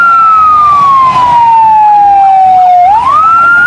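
A toy fire truck siren wails loudly and close, one long electronic tone sliding slowly downward and then sweeping quickly back up, with no talk.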